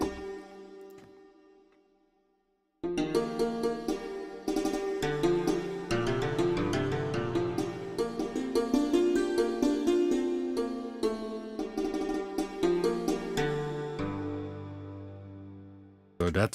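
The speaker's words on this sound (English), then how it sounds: "The Santur we had, can you recall the Santur? This instrument which you hit with a little spoon string instrument." Santur sample from a synth preset, a hammered string instrument struck with small mallets, plays a busy run of bright plucked notes after a brief quiet opening, moderately loud and alone.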